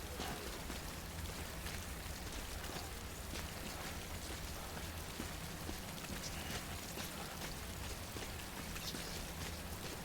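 Timefall rain in the video game Death Stranding: a continuous, even hiss of steady rainfall with fine droplet patter, constant in level throughout and fairly quiet, with no talking.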